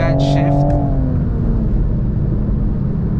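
A manual Toyota MK5 Supra's engine note drops as the gear changes, then settles into a loud, steady road and engine rumble.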